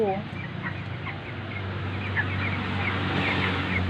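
Broiler chickens cluck and chirp in a new 2.5 by 2 cage in cold weather, several birds calling close by over a steady low background hum, with a faint voice underneath.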